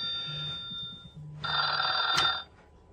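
A Retro Chatter Phone toy rings when called, giving a bright electronic trill that stops briefly and then returns louder for about a second, close and alone.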